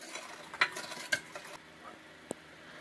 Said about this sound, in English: And then we're just going to give that a stir.